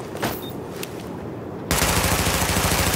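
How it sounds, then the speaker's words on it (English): Rapid automatic gunfire in Tom Clancy's The Division weapon test, aimed at highlighted targets, bursts in loud and continuous after a quieter stretch of light clicks and scattered shots. "Weapon test initialized. Open fire at the highlighted targets."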